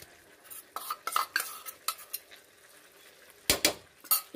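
Homemade khoya is stirred into carrot halwa in a pot, with a spoon clinking and scraping against the metal in irregular bursts, a few sharper knocks near the end, fairly close and without voices.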